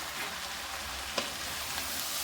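Four small chopped tomatoes go into a hot frying pan for pirandai chutney, giving a steady, soft sizzle with a faint clink of stirring partway through.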